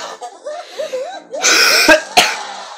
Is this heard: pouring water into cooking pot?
no